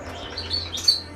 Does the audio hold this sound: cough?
no